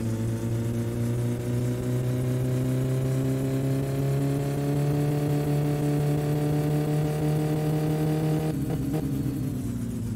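A turbocharged car with a faulty distributor in My Summer Car drones steadily at high revs, a loud, sustained engine tone holding near-constant pitch before shifting abruptly near the end, with no talk.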